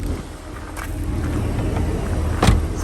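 The convertible roof of a 1997 Porsche Boxster lowers with a steady electric motor hum and a brief mechanical clunk near the end, close and continuous.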